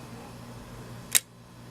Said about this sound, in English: when I open up the shutter